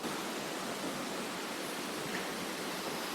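Steady, dense roar of Kabbinale waterfall in Udupi, a broad unbroken rush of falling water that stays loud and even throughout with no voices.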